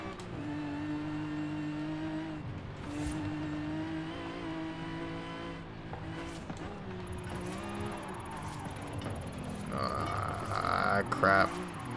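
A Nissan 370Z Nismo in Forza Horizon 5 drones steadily at high revs on a track, the engine tone shifting and swelling near the end, with someone talking over it.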